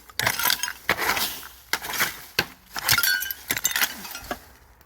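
Glass bottles clink and knock together as someone digs through an old liquor bottle dump, a series of sharp, irregular close clinks and scrapes with short pauses and no speech.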